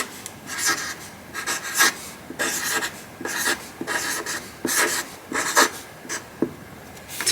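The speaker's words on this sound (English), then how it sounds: "Let's first write that." A pen writing goals on paper, with close scratchy strokes in quick irregular bursts, separated by short pauses, steady and fairly soft, with no one speaking.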